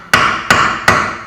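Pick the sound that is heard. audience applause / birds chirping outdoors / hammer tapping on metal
hammer tapping on metal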